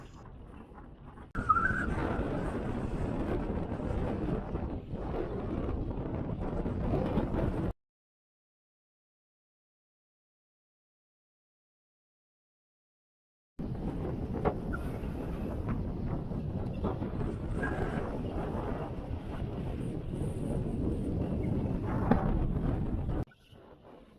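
Strong wind buffets the microphone on an England coast path between Liverpool and Southport, a loud broadband rush that cuts to silence for several seconds, then returns just as hard.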